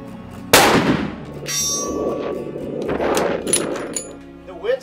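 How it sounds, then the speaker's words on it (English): A rifle fires at long-range targets: one sharp, loud close report followed by a rolling echo and lighter metallic clanks, with someone speaking briefly underneath. "now we're ready to do some shooting down here at the implements we discussed earlier"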